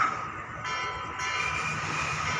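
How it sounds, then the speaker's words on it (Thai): Train rumbling past, a continuous loud roar with tonal whine and steady rolling noise, close by and unbroken, with no talking. "เรื่องรถไฟแหม บางวันก็เป็นอย่างนี้แหละ มาได้จังหวะพอดีพอดีเลย ขบวนอะไรฮะ"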